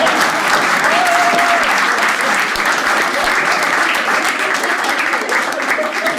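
Audience at a Hindi stand-up comedy show claps loudly and continuously, a dense, even wave of applause filling the room with no voice on top.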